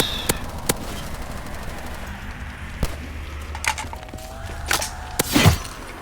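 Grenade blast in a zombies video game, sharp distant pops and cracks scattered across a few seconds, ending in a louder burst with a brief falling whine, no talk.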